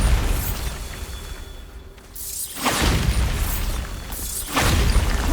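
Bombarda blasting spell going off in Hogwarts Legacy, a loud booming burst that hits twice, each blast followed by a rumbling, crackling decay over a steady game background.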